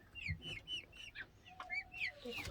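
Backyard chickens, hens and a rooster, clucking and calling in short bursts spread across the moment, fairly close but not loud, with a brief low voice near the start.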